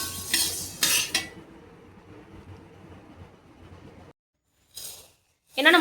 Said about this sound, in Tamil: சோளம், பரங்கி விதை, பச்சைப்பயிறு, கம்பு, சோளம், கடலை, கருப்பு கொண்டக்கடலை, பொட்டுக்கடலை, மக்கானா, சோயாபீன்ஸ் வறுத்துக்கிட்டு இருக்கிறேன்.